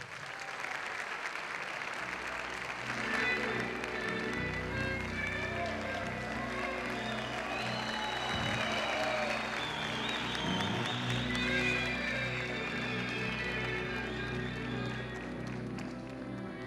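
Sustained audience applause fills a Turkish music awards ceremony, the 2005 Kral Music Awards, a dense steady clatter of clapping from a large crowd with some background murmur throughout.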